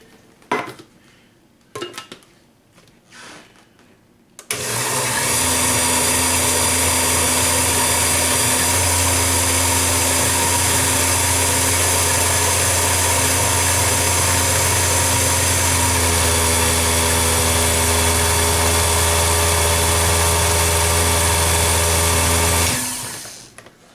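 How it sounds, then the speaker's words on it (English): Blender pureeing drained canned tomatoes in a home kitchen, a loud, steady motor whir running for nearly twenty seconds after a few brief clinks, then cutting off. "dump that in your blender."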